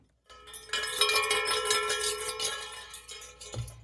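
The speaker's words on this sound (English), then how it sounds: "let's grab the bell" A bright metallic bell rings repeatedly in a fast, steady clanging that sustains for about three seconds before stopping, close and loud.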